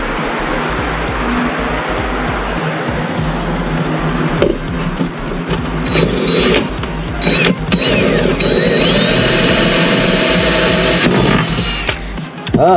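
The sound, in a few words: power drill drilling out screw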